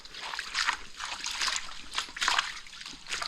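Heavy rain pours down on a Konkan house under redevelopment, a dense steady hiss of water with recurring louder splashing bursts, fairly close and continuous with no talk.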